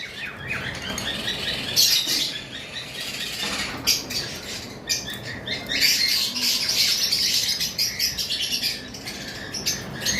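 Lovebirds in a bird shop chirp and squawk in a busy, overlapping chorus, with sharp calls rising now and then over rustling and flapping nearby.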